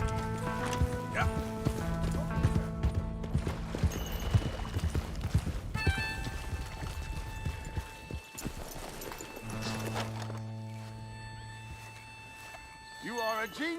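Horse hooves clip-clop rhythmically in Red Dead Redemption 2, steady close hoofbeats with a whinny, under game dialogue and music.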